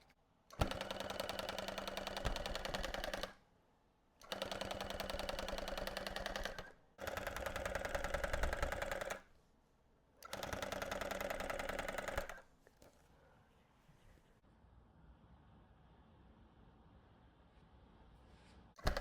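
A Clawlab H1 Lite tufting gun punches yarn into fabric in four loud buzzing bursts of about three seconds each, separated by short pauses, before falling quiet.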